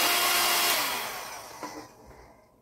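A small hair dryer blows over acrylic paint with a steady airy whoosh that fades away as it is switched off, leaving near silence.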